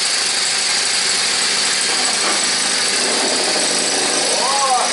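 A small four-stroke engine on a home-built chassis runs steadily and loudly at a constant buzzy idle, its rough drone unbroken from start to finish.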